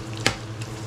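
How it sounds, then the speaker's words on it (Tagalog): Onions hit a hot pan and start frying, with a short sharp sizzle burst, then a softer second hiss over a steady crackle, close and alone. "Okay, hulog na rin natin itong sibuyas."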